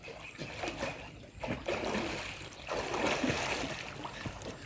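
A person swimming in a deep village well makes steady splashing, with water churning and slapping in irregular bursts nearby, some sloshing echoing around the enclosed water.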